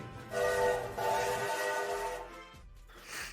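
A train horn sound effect blares in two loud, close blasts of harmonic tone, the second trailing off into hiss, then a brief softer burst at the end.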